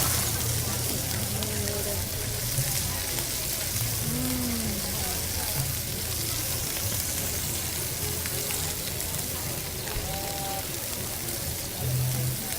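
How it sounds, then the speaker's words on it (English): Scallops sear in a non-stick pan with a loud, steady sizzle and crackle that runs the whole time, with occasional faint voices and kitchen sounds underneath. "So how long are we going to sear our scallops?"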